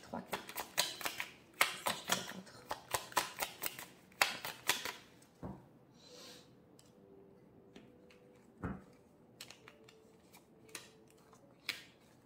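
Tarot cards are shuffled and drawn during a reading, giving a quick run of crisp riffling snaps at first, then sparser single taps and slides as cards are laid out, close and quiet.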